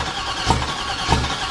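Turbo LS truck engine swapped into a Corvette, revved twice in short rough bursts over a low uneven idle, close and fairly loud.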